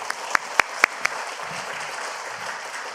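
A church congregation applauds during a Korean revival service, a steady wash of clapping from a crowd with a few sharper close claps near the start, fairly loud and alone without talk.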